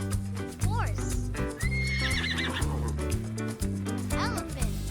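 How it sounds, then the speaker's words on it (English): A horse neighs and whinnies with clip-clopping hooves in a children's animal-sounds nursery rhyme, the calls rising clearly over a bouncy music backing. "horse"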